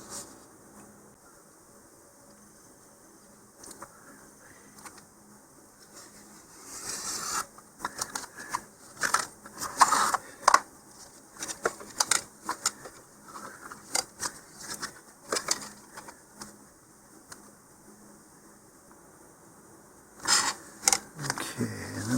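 Scattered sharp snips and scraping clicks as the edge of a part from an Estes Cosmic Cascade model rocket kit is cut, in irregular bursts after a quiet start, close and fairly faint.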